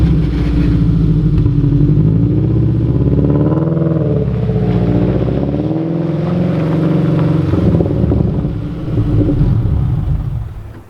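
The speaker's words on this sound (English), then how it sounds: "The exhaust for the Buggy." A dune buggy's engine idles and revs through its exhaust in a workshop shed, a loud, steady rumbling drone with rising and falling pitch, running alone without talk.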